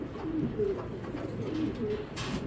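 A red checker female racing pigeon coos softly in several low, rolling phrases close by, with faint background hiss and no talking.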